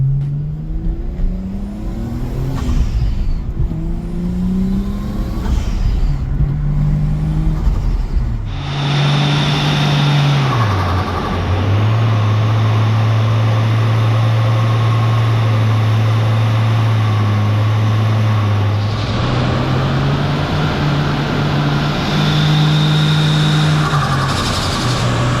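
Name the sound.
turbocharged Nissan Skyline car driving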